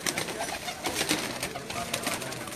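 Pigeons coo softly on a rooftop in Jeddah, Saudi Arabia, their low repeated calls faint and mixed with light flutters and background noise.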